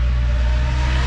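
A noisy Nissan Pulsar race car engine at Monza holds a loud, steady, close drone with a strong low-end roar for about a second, with no voices.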